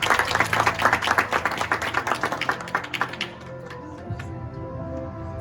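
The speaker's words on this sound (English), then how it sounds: "Give a round of applause." Lively applause from a small crowd at a children's martial arts event, dense clapping that thins out and fades after a few seconds into a quieter room.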